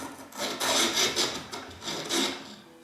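Hand filing of a part during restoration of an 1865 Forster & Andrews pipe organ, a quiet, close rasping in about five rhythmic back-and-forth strokes.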